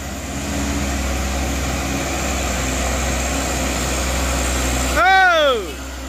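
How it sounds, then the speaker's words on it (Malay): Idling engine of a coal-hauling Fuso or Hino truck in Indonesia, a steady low rumble held throughout, close and fairly loud, with a brief whooshing pass of another vehicle near the end. "Ini motor batu bara juga bosku ya."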